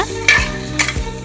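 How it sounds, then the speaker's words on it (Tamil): Soaked green peas fry in a pan with mint and coriander, a soft sizzle broken by two louder stirring scrapes. "ஊற வச்ச பச்சை பட்டாணி போட்டுக்குங்க, நல்லா ஃப்ரை பண்ணிக்கோங்க."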